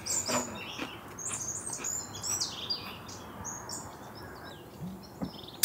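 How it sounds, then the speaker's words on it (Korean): Several birds chirp and trill in overlapping bursts over a soft, constant outdoor hush in a forest, some calls nearer and brighter than others. "여기서 이렇게 새소리 듣고 앉아있으니까"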